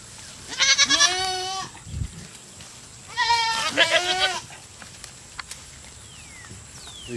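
Farm goats bleat loudly nearby in two distinct quavering calls about two seconds apart, over steady outdoor background noise with a few faint knocks.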